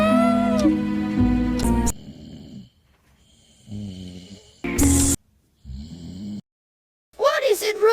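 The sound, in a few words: loud snoring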